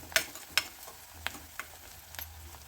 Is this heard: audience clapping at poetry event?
no